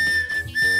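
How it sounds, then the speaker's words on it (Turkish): A whistle lollipop candy blown in a short, shrill, steady tone with brief breaks, loud and close with no talk. "Evet, düdüğün çaldığını şükretmeliyiz bence."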